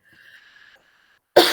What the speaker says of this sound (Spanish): estoy con una tos